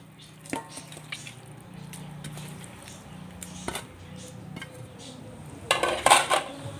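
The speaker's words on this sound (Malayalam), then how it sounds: "ചിക്കനും കൂടി ഇട്ട് നന്നായിട്ട് ഒന്ന് മിക്സ് ചെയ്യാം" About one and a half kilograms of washed chicken is stirred into masala in a cooking pot for a Kerala roasted-coconut chicken curry, with soft scrapes and clinks building to a louder burst of stirring near the end.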